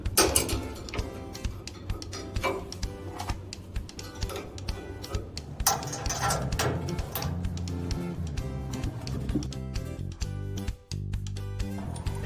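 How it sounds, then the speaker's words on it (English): Close, busy clicking and plastic-metal rattles as a natural gas regulator connection hose is fitted to a Prokan Pro Elite gas grill, with dense irregular ticks and taps over a low steady hum. "Install the natural gas regulator connection hose."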